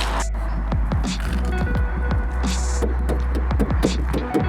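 Motorhome engine idling and running, a steady low throbbing hum with a pulsing rumble, close and loud throughout with no speech over it.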